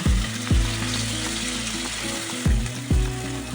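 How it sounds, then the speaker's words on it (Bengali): Kachki fish with onion being stirred and fried in a pan, a continuous sizzle broken by several low scraping knocks of a spatula against the pan, close and loud, with no talking. "হালকা ভাজা হলে মাখানো কাচকি মাছগুলো দিয়ে দিব তারপর কিছুক্ষণ নেড়ে চেড়ে আজকে মাছগুলো কষিয়ে নেব"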